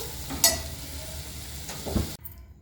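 Amaranth leaves (thotakura) frying in a pan: a steady close sizzle broken by a few sharp spatula taps and scrapes, then cutting off abruptly into near silence.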